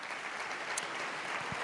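Steady clapping from a church congregation applauding during a worship service, dense and continuous with no voices over it.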